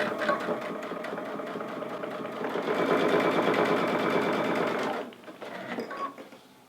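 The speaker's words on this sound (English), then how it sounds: "I'm going to sew all the way down to the corner." A sewing machine stitches quilt binding down toward a corner in a rapid, even mechanical chatter that speeds up midway, then stops abruptly, leaving faint handling noises.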